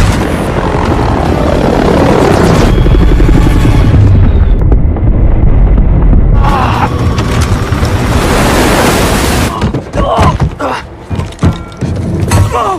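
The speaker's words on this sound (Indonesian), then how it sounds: "Untuk melumpuhkan helikopter musuh" Helicopter in an action chase scene from a film, its loud rotor roar filling the mix alongside surging water and mechanical noise, with dramatic music swells and sudden impacts.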